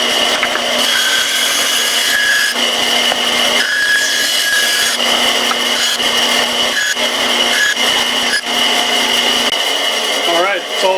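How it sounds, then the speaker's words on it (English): Bandsaw rough-cutting a wooden handle for a Silky saw blade, a steady loud whining hum with grinding wood-cutting texture that runs continuously throughout. "So now I'm gonna take it over to the bandsaw and let's rough cut this thing out."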